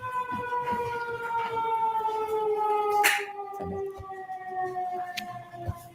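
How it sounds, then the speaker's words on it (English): A loud siren wails steadily outside a Massachusetts courtroom during a trial, with layered sustained tones, rising in intensity before a sudden burst and then fading slightly, with no talking. "I was just waiting for the siren, Your Honor."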